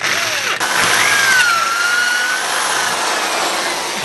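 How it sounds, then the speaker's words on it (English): A steady, loud whine of a drill boring a 6mm hole through cast iron, with a rising and falling high-pitched tone as the bit cuts, running continuously without talk. "I'm just going to put a 6mm hole through the existing hole"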